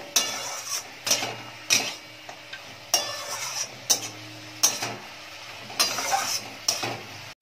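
Fried lentil dumplings are stirred into spinach in a frying pan, with a spatula scraping and knocking against the pan about once a second, close and crisp over a low background sizzle.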